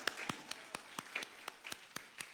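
A church congregation clapping loudly in an even, steady rhythm, about four claps per second, with faint voices underneath.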